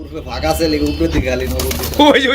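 Pigeons coo in a cage at a large pigeon farm, with repeated throaty calls close by, and someone talks over them.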